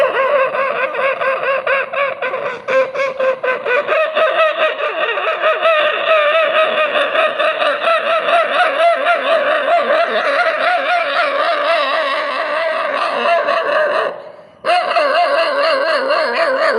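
A human voice imitates a dog barking from a distance as it approaches a house, a steady, continuous vocal imitation that stays loud and close throughout, with a brief break near the end.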